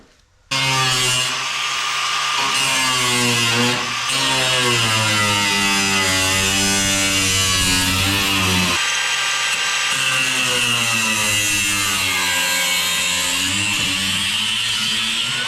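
A Milwaukee cordless power tool runs continuously and loud for about fifteen seconds during rust repair on a 1957 Chevy's lower front quarter and rocker, its whining pitch sagging and rising as the load on the tool changes.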